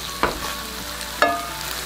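Cheese risotto cooking in a pan, stirred now and then so the spoon doesn't hit the bottom: two distinct scraping stirs over a soft continuous simmer and sizzle, no voices.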